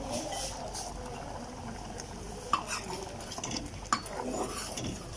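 Cooked fresh apricots are stirred and mashed in a pan, a soft, close scraping with two sharp utensil knocks against the pan, fairly quiet overall.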